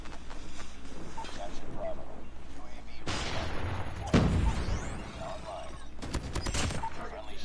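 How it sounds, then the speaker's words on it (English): Gunfire in the mobile shooter game COD Mobile, bursts of automatic shots and a heavier blast partway through, loud and continuous under a busy game mix. "Who's shooting me?"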